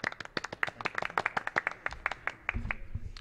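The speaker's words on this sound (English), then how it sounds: "I'm gonna give you a little clap" A single person clapping hands in a steady series of sharp, close claps at the end of a tabletop RPG session, continuing for about three seconds with faint background noise.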